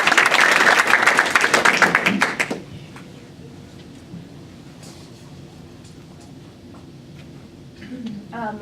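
Audience at an improv comedy show clapping loudly for about two and a half seconds before the applause cuts off, leaving quiet room tone with faint scattered sounds.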